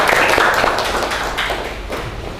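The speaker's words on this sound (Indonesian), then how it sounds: "Beri tepuk tangan untuk teman-teman." A classroom of students applauding their classmates, a loud, steady wash of many hands clapping up close that slowly thins out over a couple of seconds.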